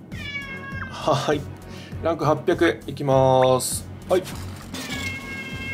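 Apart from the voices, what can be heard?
calico cat meowing in the background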